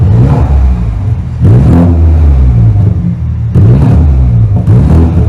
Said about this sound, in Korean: 노멀 모드에서 한번 밟아볼게요. 2000rpm 밟아줘.